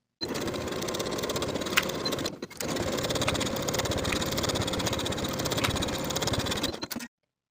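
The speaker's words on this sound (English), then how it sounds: "Sew both side seams and both shoulder seams with a 3/8 inch seam allowance" A sewing machine runs steadily while stitching the side and shoulder seams of a flutter-sleeve top, a close continuous rapid whir broken by one brief pause midway, with no talk over it.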